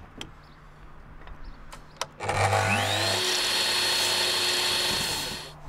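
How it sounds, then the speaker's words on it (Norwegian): A power saw spinning up and cutting a wooden deck post while building a terrace: a sharp start, then a steady, loud, high motor whine held for a few seconds before it winds down, close by with no talk. "Mål derfor 90 cm fra merket og kutt stenderen."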